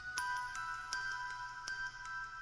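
A phone rings in the horror film Brightburn, waking a sleeping man: a steady electronic ring with bright, even tones pulsing in a regular repeating pattern, fairly clear and alone.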